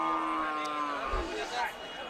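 A six-tooth cow at a cattle market lets out a long, low moo that slides downward, with faint crowd murmur and voices in the background.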